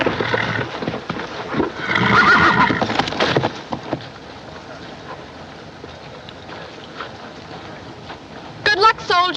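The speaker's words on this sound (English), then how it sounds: "It's a wild horse." A wild horse whinnies loudly near the start, its shrill neigh rising over rough background noise, then things settle into a quieter murmur with a brief sharp squeal near the end; talk is faint in the mix.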